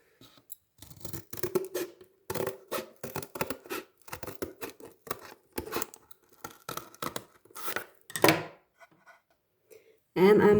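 Scissors snipping through paper to cut out a heart shape for a Valentine's craft, a run of short crisp cuts in uneven rhythm, close and clear, ending with a louder rustle of handled paper.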